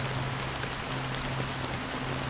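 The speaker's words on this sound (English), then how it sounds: "How long has this rain been on" Steady rain falls throughout a scene in the video game Honkai: Star Rail, a constant broadband hiss of drops on surfaces with a low hum beneath and no one speaking.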